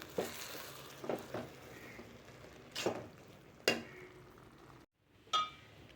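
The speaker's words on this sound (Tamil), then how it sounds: "இப்போ லைட்டாக கிளறி விடுங்க" Vegetable biryani being stirred in a pot, a few scraping, clinking strokes of a spoon against the metal over a soft background, with no talking.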